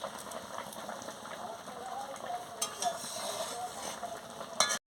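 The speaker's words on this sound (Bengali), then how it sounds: "এবার আমি আমচুরটাও দিয়ে দিচ্ছি দিয়ে ভালো করে ফুটিয়ে নিচ্ছি" Fish sour curry with eggplant and amchur bubbling in a pot, a soft, steady rain-like sizzle and simmer heard close up, with a brief clatter near the end.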